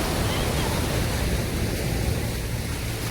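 Sea waves washing onto Miramar beach in Goa, a steady broadband roar of surf that fills the short stretch without a break, close and fairly loud, with no voices over it.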